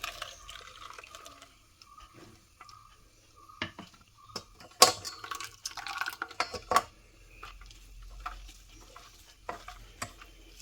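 Grated coconut is strained to extract coconut milk for a mango sago payasam, with soft wet squelching, liquid trickles and scattered clinks of a utensil against a bowl, close and intermittent.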